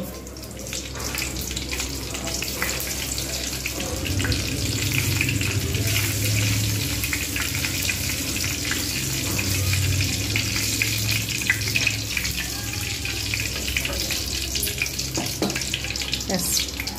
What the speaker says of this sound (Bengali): এইবার আমি এতে শুকনো লঙ্কা, গোটা জিরে আর একটু মেথি আমি ফোড়ন দেব টেস্টের জন্য